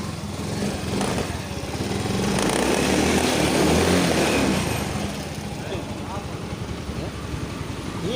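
An automatic scooter engine with compression trouble idles after repair, a steady rough putter with a low rhythmic pulse that swells slightly midway and holds on, close and fairly loud.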